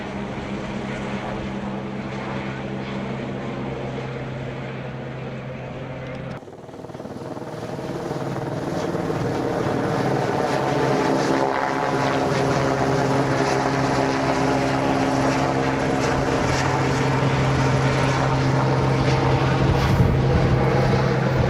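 A helicopter airlifting supplies in Big Sur, a loud steady rotor drone that briefly dips around six seconds, then swells and holds close and dominant, with no voices.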